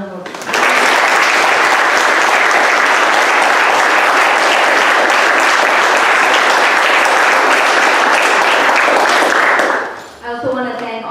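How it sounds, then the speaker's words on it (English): Sustained audience applause for sheriff candidates at a Monterey County community forum, loud and dense for about nine seconds before fading, with a voice starting to speak at the end. "let's give them a round of applause"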